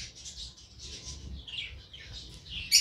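Budgerigars feeding chicks give high, thin chirps and soft squeaky calls in repeated bursts, close and moderately loud over a low background rumble, ending with a sharper squawk.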